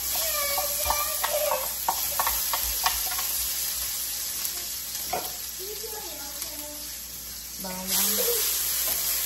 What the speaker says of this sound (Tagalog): Lagyan natin ng mantika.